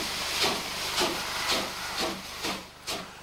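A steam locomotive pulling away from Witten station gives off repeated bursts of hissing steam at a steady chuffing rhythm, with a low rumble running beneath them. It sounds fairly close, and no one speaks.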